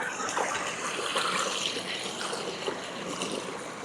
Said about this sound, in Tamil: இதான் உப்பாத்து ஓடை.